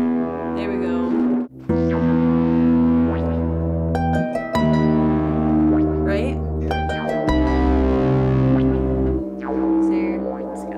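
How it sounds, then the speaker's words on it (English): Sustained low synth bass tones with a little distortion, held notes shifting pitch in long blocks with brief gaps, loud and droning, with an echoing metallic edge. "just has a little bit of distortion on it"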